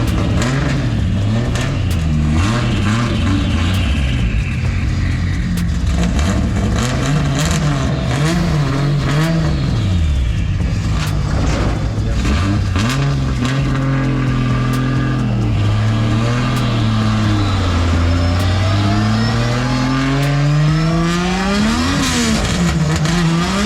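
A Barra-engined car accelerating hard with wheel spin, a loud close engine revving up and down through repeated rising pulls over a constant roar.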